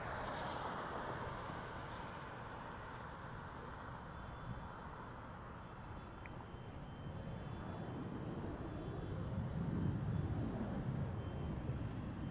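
An EVA Air airliner taxis at Toronto Pearson Airport, its engines a steady, broad jet rumble and whine that holds level and swells slightly toward the end.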